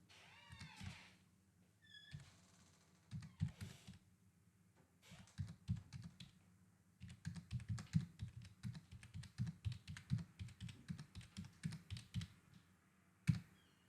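Typing input values on a computer keyboard: bursts of rapid, close keystrokes, growing into a long, dense run, with a cat meowing briefly near the start.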